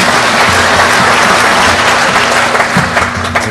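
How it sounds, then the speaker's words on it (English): Applause from a hacking conference audience fills the room, a dense, steady wash of many hands clapping close and loud throughout, with a faint tone humming beneath. "a big applause"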